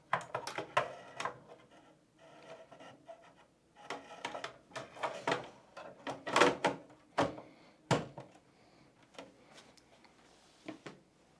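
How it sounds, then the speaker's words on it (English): Electronic cards slid along chassis rails into a VM130/AM230 unit, giving scattered light clicks, scrapes and rubbing knocks at close range with quiet gaps, and no talking. "Now we will put in the new MDC cards, making sure to align the rails on the chassis."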